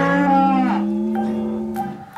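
Cattle moo in a cramped barn crowded with large cows and calves, one long, loud, close, drawn-out bellow with no talk over it.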